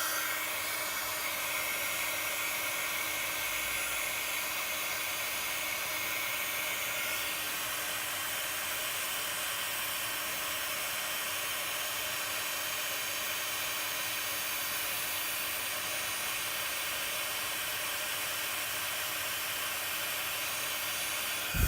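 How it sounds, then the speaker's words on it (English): A heat tool blowing steadily as it melts embossing powder on a craft project: a continuous close, airy whoosh with a high whine, even and unbroken throughout, with no talking. "time for the heat tool, and we'll watch that magic"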